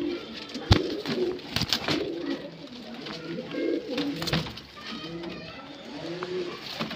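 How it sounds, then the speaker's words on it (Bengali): About forty highflyer pigeons packed in a bag coo continuously in low overlapping rolling calls, close and busy, with a few sharp rustles and knocks as they shift. "এখন একটা ব্যাগে 40টা পায়রা আছে প্রায়"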